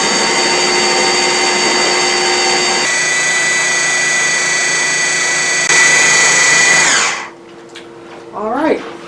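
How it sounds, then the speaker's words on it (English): A KitchenAid food processor blends chickpeas on low, whirring loudly and steadily for about seven seconds before spinning down, followed by a brief voice close by. "I'm using my KitchenAid food processor here, and I'm just going to put it on low to start blending. Blending those chickpeas."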